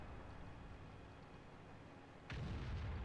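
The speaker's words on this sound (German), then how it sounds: "Arti trifft für 907 Schuss" In World of Tanks gameplay, an artillery shell strikes with a sudden loud boom about two seconds in, cutting through a steady low engine rumble that continues afterward.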